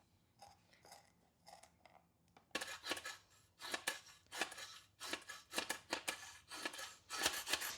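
Sharp, crisp snips from a pair of poor-quality scissors cutting material for a DIY shoe resole, a few quiet cuts at first, then a louder run of irregular close-up snips and crunches.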